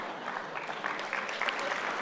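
Audience applause at a comedy show, steady dense clapping from a crowd filling the whole moment at moderate loudness, with no talk over it.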